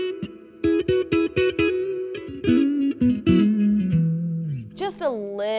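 Clean electric guitar with single-coil pickups and a light touch of reverb plays a phrase of plucked single notes and short chords, closing on a sustained bent note that rings out alone.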